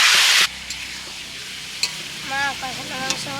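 Marinated chicken for curry is dropped into a hot pan with a loud burst of sizzling, then settles into steady frying and stirring while a bird chirps in the background.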